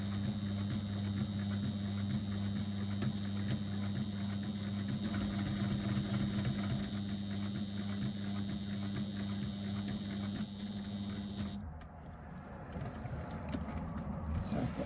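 A sewing machine stitches quickly in a steady, continuous mechanical whir with a humming motor tone, then stops near the end, leaving quieter handling sounds.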